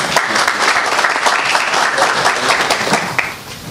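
Sustained audience applause fills a town council investiture meeting in Slănic Moldova, a dense, steady wash of many hands clapping at close range, with no speech over it.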